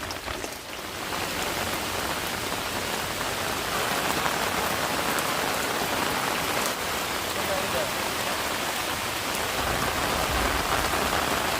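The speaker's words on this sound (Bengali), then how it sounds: "বড়া তৈরি করতে করতে বৃষ্টি চলে এসছে" Heavy rain pours steadily and loudly throughout, a dense continuous hiss of drops striking surfaces, with faint voices in the background.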